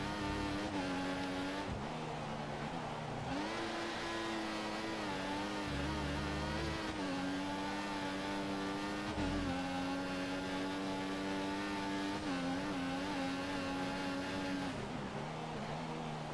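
High-revving Formula One engines from the racing game F1 2014, a loud continuous whine holding near the limiter with brief drops and climbs as cars run close together, alone without talk.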